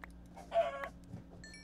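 A chicken clucks in the game Minecraft, a few quiet, close clucks spread over a short stretch with no talking.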